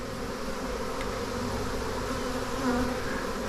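A honeybee swarm of two to three pounds of bees drones steadily as it moves into a box outdoors in the Pacific Northwest, a dense, continuous buzzing close by that barely varies in level.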